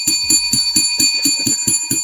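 A bell is struck in quick, steady succession, about nine bright ringing hits in two seconds, loud and close with sustained metallic overtones.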